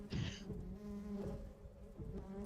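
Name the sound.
buzzing bees growing louder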